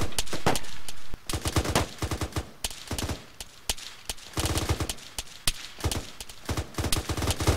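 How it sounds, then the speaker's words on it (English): Intense gunfire in an Arma 3 firefight, with rapid bursts and overlapping automatic volleys cracking close and loud in irregular clusters throughout. "once we get out of this huge firefight we're in"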